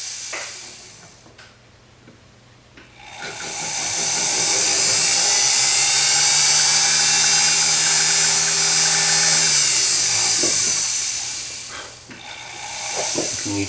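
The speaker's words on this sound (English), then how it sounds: "Okay, so let's drill our holes." A small drill bores 1 mm holes in a sterling silver cuff bracelet, its high whine rising and holding steady for several seconds before winding down, close and loud, with quiet handling sounds before and after.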